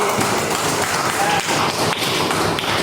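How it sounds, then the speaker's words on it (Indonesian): A burst of clapping from a classroom group, brisk and steady, with voices murmuring underneath. "tepuk tangan buat Ali."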